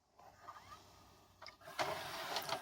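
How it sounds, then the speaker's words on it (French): A VHS cassette engages inside a VCR/DVD combo player, with faint motor whirs, a couple of sharp mechanical clicks and then a louder whirring hiss as the transport takes up the tape. "Donc là, la cassette s'enclenche"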